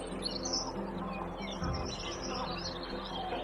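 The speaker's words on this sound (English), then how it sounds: "the melodic trills of birds, such as toucans and macaws," Birds in the Amazon rainforest, such as toucans and macaws, chirp and trill faintly in a soft, steady chorus against low background hum.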